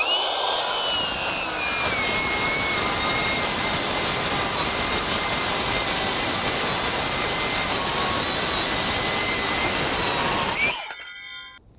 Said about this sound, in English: there's a stack of 4 1/2 inch pieces of OSB. We're just going to rip through it, see what happens.